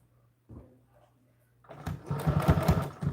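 A sewing machine runs a seam on a stiff American Girl doll dress, starting after a few soft handling knocks and then whirring loudly and steadily at close range.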